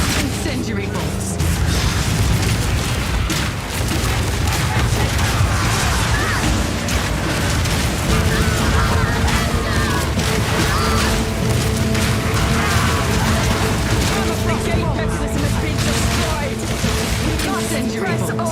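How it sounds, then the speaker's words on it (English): Incendiary bolts fired in the video game Path of Exile 2 make loud, dense, continuous booms and crashes with bursting impacts, sustained throughout the combat. "Incendiary bolts."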